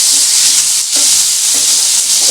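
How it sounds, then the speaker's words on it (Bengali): Soft bhetki fish pieces frying in hot oil, a loud, continuous hissing sizzle with faint crackles, close up and without speech. "এখন এই কটা মাছ ছাড়লাম।"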